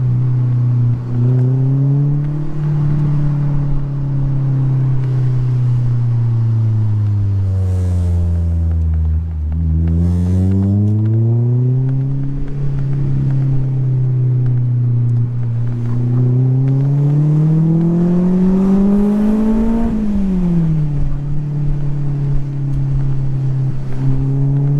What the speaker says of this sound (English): Oh, that exhaust is loud.